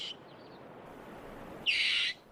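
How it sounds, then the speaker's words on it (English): A single sharp, high-pitched alarm squeak from an African rock hyrax on cool rocks in the early morning, loud and close, rising suddenly over steady background hiss and lasting about half a second. "A loud squeak alerts the group to an eagle soaring above"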